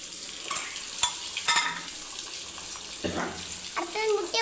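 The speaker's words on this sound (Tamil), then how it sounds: "அடுத்தது முட்டை போட்டாச்சு. நல்லா போட்டு வறுக்கணும்." Eggs frying in hot oil in a pan for egg biryani, a steady close sizzle with scraping stirs and clinks of a utensil, brief bursts of louder crackle throughout.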